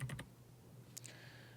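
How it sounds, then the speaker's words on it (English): A few quick taps on a computer keyboard, quiet and brief, with a short cluster of keystrokes at the start and a couple more a moment later against near silence. "hit the T on my keyboard, and just type in let's just do the M5 chip"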